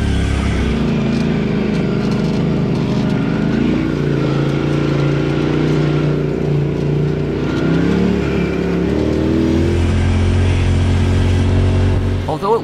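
A side-by-side UTV engine drones steadily while driving along an off-road rally route in Canada, loud and continuous with small shifts in pitch as the pace changes, with no voices.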